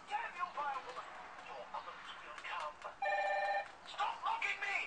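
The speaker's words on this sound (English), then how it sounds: "You guys hear my phone ringing, as usual." A phone rings with a bright electronic trill partway through, under ongoing chatter and background noise.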